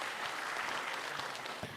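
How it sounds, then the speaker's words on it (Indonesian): Brief burst of studio audience applause during a stand-up comedy competition semifinal, dense and even, fading slightly toward the end. "Tepuk tangan dong buat mereka."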